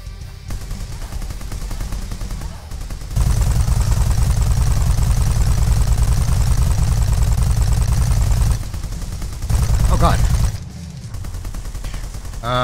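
Sustained heavy gunfire from the zombie-survival shooter Ultimate Zombie Defense 2, loud and close, with dense rapid bursts that pause briefly and resume, and no talking over it.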